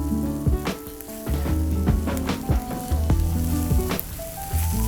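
Onions and garlic sizzle and fry steadily in a hot kadai while kadai paneer is cooked, with a continuous crackling hiss over a busy pan and no talk.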